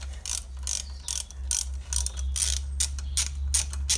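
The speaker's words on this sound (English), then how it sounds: "Just going to remove this last bolt here, holding the manifold on." Ratchet loosening the last manifold bolt on a Ford Focus 1.6 diesel engine, a series of close, crisp clicking bursts in quick uneven strokes over a low background hum.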